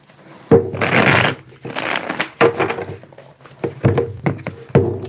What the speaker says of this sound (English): Let me get one more shuffle here.